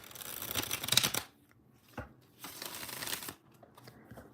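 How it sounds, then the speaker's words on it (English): Two bursts of crisp riffling as a deck of tarot cards is shuffled, close and loud, separated by a short pause with a soft tap. "One last shuffle."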